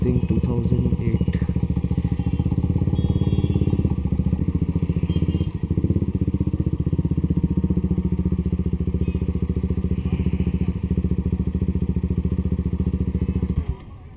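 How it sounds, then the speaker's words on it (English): A 2008 Honda Fireblade motorcycle engine runs steadily and loudly close by for about fourteen seconds, with a brief dip midway, before cutting off at the end. "So this is the bike that I was telling you about, Fireblade."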